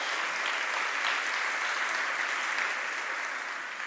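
A church congregation applauding loudly, a dense, sustained wash of clapping that stays at full strength throughout and eases slightly at the very end.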